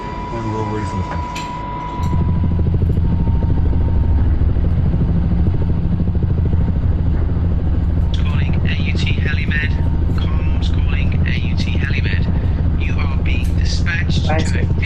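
A helicopter starts up for an emergency flight, its engine jumping to a loud, steady throbbing whine after two seconds and holding, while voices talk over the radio through much of it.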